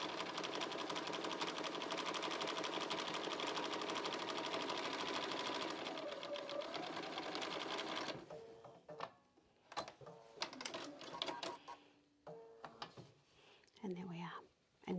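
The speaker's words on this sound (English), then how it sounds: "we're just going to take that to the machine and we're going to run a stitch along the bottom here" A sewing machine stitches along the bottom edge of fabric, a loud, fast, continuous mechanical whir for about eight seconds. It then stops, and quieter handling sounds and a voice follow.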